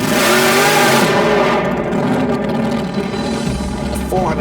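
A 468 cubic inch, 2,500 horsepower Hemi engine revs hard and loud, a steady roaring drone with rising pitch sweeps near the end.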